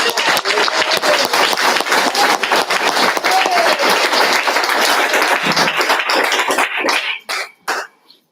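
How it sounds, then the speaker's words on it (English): Audience applause breaks out at a school board meeting after a roll-call vote. It is a dense, steady clapping that fills the room for about seven seconds and then thins to a few last scattered claps before falling quiet. "I think we should clap"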